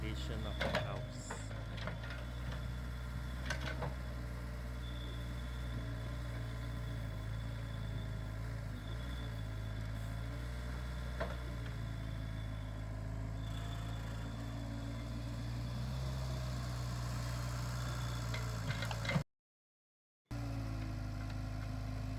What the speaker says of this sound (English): The backhoe is able to dig precisely following the white square markings.